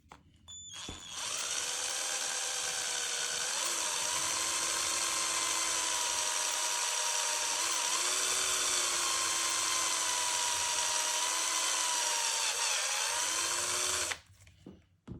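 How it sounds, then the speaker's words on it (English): An electric drill with a bigger bit bores a hole in a tiny Lima CN switcher model locomotive, a high steady whine running for about thirteen seconds with small pitch dips as the bit bites, then stopping abruptly. "Right, bigger drill bit."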